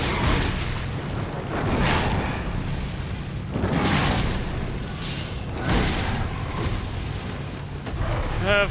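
The Fire Oni being shot in Nioh, a run of heavy booming blasts and bursts repeating every couple of seconds over a dense rumbling game soundscape, with a voice speaking faintly under it.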